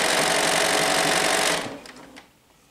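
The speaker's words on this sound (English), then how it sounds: "You gotta sew it in." Sewing machine stitching a bust dart in garment fabric, a loud steady whir for about a second and a half, then stopping abruptly, with a few faint handling clicks afterward.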